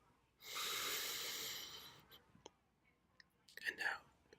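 Slow meditative breathing close to the mic: a long soft inhale-exhale rush, then quieter breaths and small mouth sounds, with no talking.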